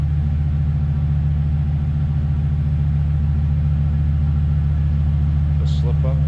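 A 1996 Chevrolet Impala SS idles from the rear, its exhaust giving a deep, steady, throaty rumble that stays loud and constant, with a brief voice near the end.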